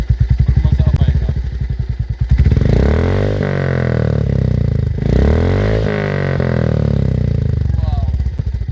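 A Royal Enfield Classic 350 J Series with a Red Rooster exhaust, heard up close: a deep thumping idle that swells into two loud, bassy revs and settles back to a throaty rumble.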